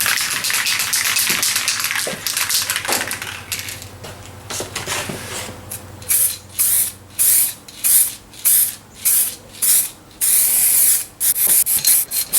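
Spray gun laying a color coat of paint on a truck, a loud continuous hiss that gives way to a series of short, evenly spaced bursts of spray toward the end.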